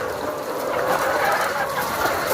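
Caged white layer hens on an egg-laying poultry farm give a continuous, murmuring chorus of clucks, steady and close, with no clear pauses.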